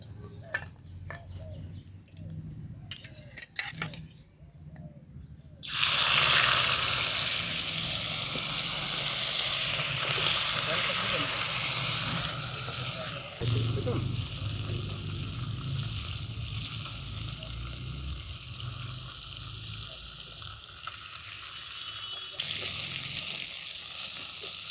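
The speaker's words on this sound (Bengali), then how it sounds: "এবারে মাছগুলোকে আমি ভেজে নেব" Small river fish hit hot mustard oil after a few quiet clinks, bursting into a loud, dense sizzle that roars on steadily, easing slightly before flaring again near the end.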